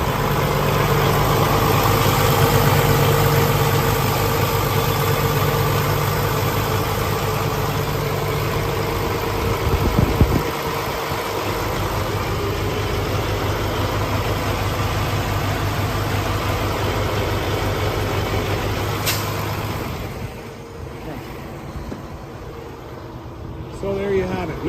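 A 2017 Kenworth T680 truck with a PACCAR engine runs at idle, a steady, loud diesel drone with a low hum that continues for most of the stretch before dropping off near the end.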